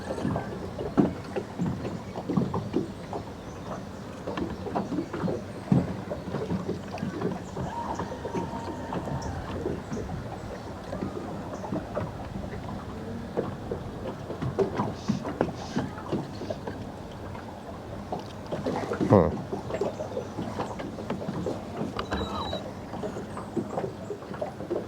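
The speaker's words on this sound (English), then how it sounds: "I have my trolling motor on spot lock" A boat's trolling motor holds position on spot lock while fishing, a low steady hum beneath light water lapping and occasional knocks and rattles on the hull, with one louder bump near the end.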